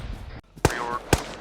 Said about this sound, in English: Those little explosions are 40 mic mics.